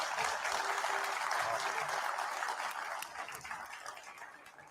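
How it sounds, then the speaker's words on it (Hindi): An audience applauds at a stage show with Shatrughan Sinha, a dense sustained clapping that tapers slightly toward the end, heard alone without talk. "एक बार जोरदार तालियां होनी चाहिए।"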